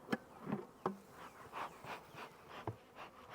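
Honeybees buzz faintly around a production hive during a split, a soft continuous drone with individual bees passing near the listener now and then.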